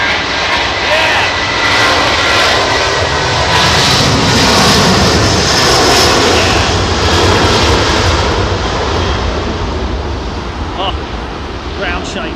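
Airliner engines roar loudly and continuously at London Heathrow Airport on a windy day, a powerful ground-shaking rumble with wind buffeting, as someone speaks briefly over the noise.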